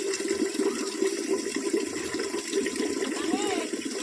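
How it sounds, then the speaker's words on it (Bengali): Rice being washed in water gives close, continuous sloshing and splashing, with a voice talking over it. "এই যে চাল ধুচ্ছি"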